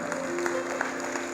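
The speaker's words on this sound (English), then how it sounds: "Can we give a round of applause to those who chose to follow Jesus today?" A congregation at a New Year church service claps briefly, with sparse claps scattered over a steady hum and a sustained organ-like tone, fairly soft and short.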